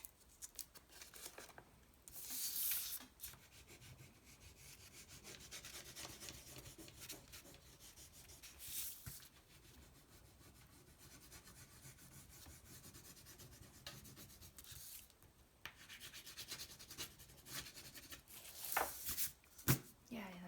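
Blue crayon rubbing on paper for a children's coloring exercise, a steady close scratchy rasp with a few louder strokes, heard alone at a soft level.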